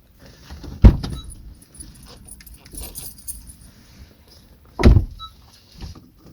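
A new smart key for a Honda Civic is brought in, with two sharp jangling clinks of keys several seconds apart and quiet handling rustle between them, close by.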